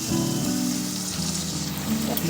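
Chicken frying in a pan at home, a steady hissing sizzle running throughout at close range with no pauses, while low tonal hum sits beneath it.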